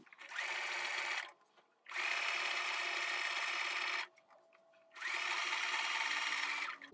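A sewing machine stitching a tiny doll collar runs in three loud, steady bursts, pausing between them to pivot at corners, heard close up and alone.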